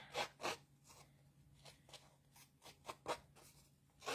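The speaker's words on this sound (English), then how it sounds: "I'm just dragging the scissors along the edge of my" Scissors scraped along the edge of cardstock in short, quiet rasping strokes, each a brief scratchy burst with small pauses between.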